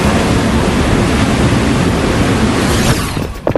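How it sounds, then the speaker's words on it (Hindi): Water gushes from a burst pipe in a loud, continuous roaring spray that fills the clip and breaks up into choppier splashes near the end. "पानी लीक हो रहा है। सब लोग जल्दी बाहर निकलें, पाइप फट गए।"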